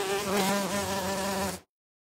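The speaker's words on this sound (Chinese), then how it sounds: "这是蜜蜂" A cartoon bee buzzes steadily and close up for about a second and a half, a bright, even drone that then cuts off into silence.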